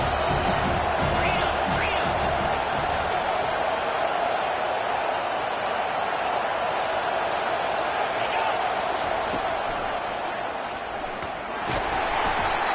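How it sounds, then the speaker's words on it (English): A stadium crowd in the NCAA 25 college football video game roars in a steady, dense wash of cheering, loud and continuous with a slight dip near the end. "This crowd knows when to bring it."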